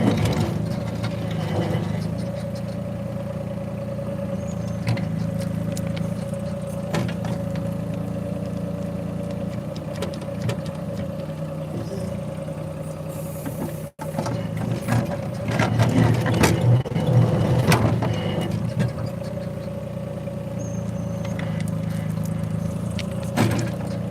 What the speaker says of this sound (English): I'm jumping up the RPMs.